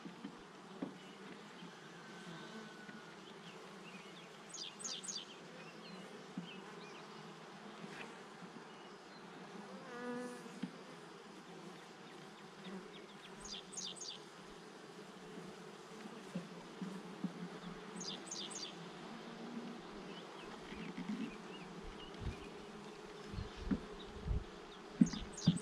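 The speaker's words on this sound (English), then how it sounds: "let these bees do their thing" Honeybees buzzing in a bee yard: a steady, faint, continuous drone of many insects, with occasional brief high chirps over it and no talking.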